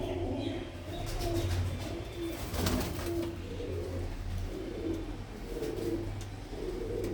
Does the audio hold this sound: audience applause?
no